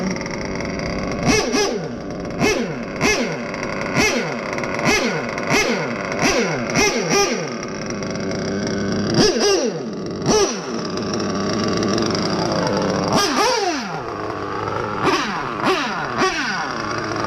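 An RC basher car with a Trident motor runs through a series of sharp, whining revs and bursts of acceleration, loud and close with a high mechanical whir between pulses.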